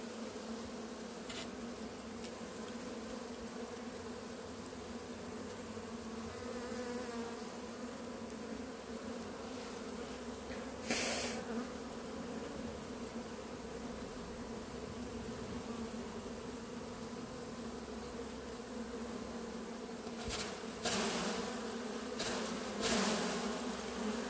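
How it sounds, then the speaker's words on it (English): Honey bee swarm that has settled into uncovered hive equipment buzzes steadily and close throughout, a dense continuous hum with a few brief louder bursts as bees pass near. "Many of these bees, this will be the first time they've left the nest."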